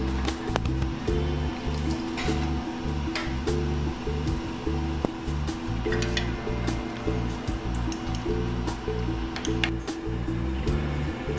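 Distilled water and sample solution are poured onto a stack of wet-sieving screens, giving a steady rushing, splashing wash over a constant low mechanical hum, close and continuous throughout.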